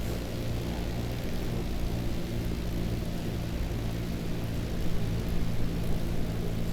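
Biplane engine in Microsoft Flight Simulator 2020, a steady low propeller drone with a broad hiss layered over it, unchanging and loud for the whole stretch.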